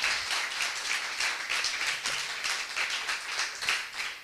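An audience at a conference lecture applauds steadily, with dense overlapping clapping from many hands sustained throughout, fairly loud and without pauses.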